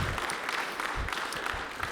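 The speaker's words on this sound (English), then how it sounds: "you can go ahead and give him a nice round of applause" A concert audience applauds a brass band's director, a dense, steady patter of many hands clapping at close range with no voices rising above it.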